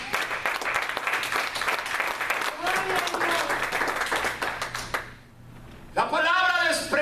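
A church congregation applauds steadily for about five seconds with voices rising over the clapping, then it fades briefly before a preacher speaks loudly.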